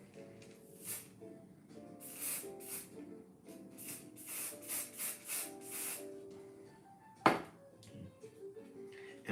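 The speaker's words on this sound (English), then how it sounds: "we're gonna spray this down" A spray bottle spritzing something down in a run of short, hissing bursts, roughly a dozen in quick succession, over soft steady background tones, then a sharper single knock near the end.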